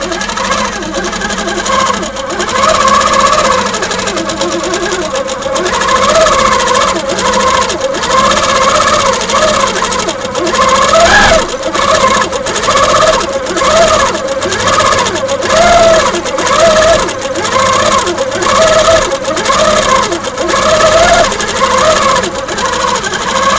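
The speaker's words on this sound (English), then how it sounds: "So now we're going to demonstrate how the stitch regulation works with the TruStitch attached" Handi Quilter Sweet 16 sewing machine stitching along the edge of a quilt with the TruStitch stitch regulator attached, a loud steady mechanical hum with fast rhythmic needle pulses that rise and fall in speed.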